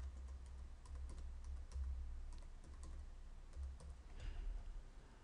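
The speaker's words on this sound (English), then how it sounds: "And here we are able to type the text, so let it be one word, confidential" Keys clatter on a computer keyboard as a single word is typed, quick uneven clicks in bursts, close and fairly quiet with no voices.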